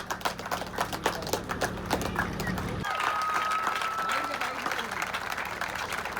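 A crowd at a cricket prize ceremony claps steadily for a player, a dense patter of applause throughout, with a whistle or tone briefly rising above it midway.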